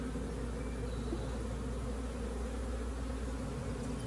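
Honeybees from a captured swarm drone steadily around a hive as frames go in, a constant close buzz with no pauses or talk.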